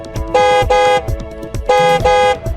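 A car horn blares in two double honks, each pair of loud, sustained toots separated by a short pause, close and with no talk over it.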